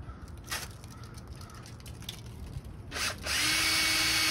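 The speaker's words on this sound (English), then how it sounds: "Drill a couple holes." A power drill bores holes while a ladder hoist is built around a Harbor Freight Badland winch. Short bursts near the start give way to a louder, sustained whir toward the end, close to the microphone.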